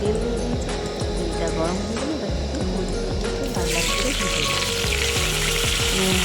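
Steady, loud frying sizzle of papaya fritters in a wok fills the whole stretch, with a voice speaking over it and the crackle brightening near the end.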